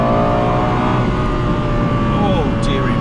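Lexus LFA V10 supercar engine revving hard, a loud, sustained high-pitched howl that climbs and holds steady throughout, close and dense.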